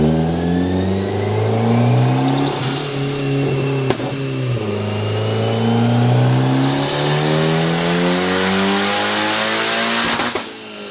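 A big-turbo Genesis Coupe on a dyno, its engine loud and close as it revs up through a long pull, easing off briefly and climbing again with rising pitch, then cutting back at the end.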